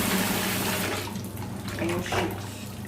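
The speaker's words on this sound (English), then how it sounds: "going to use the running water to" Tap water runs steadily, splashing as beans are rinsed beneath it, close and fairly loud.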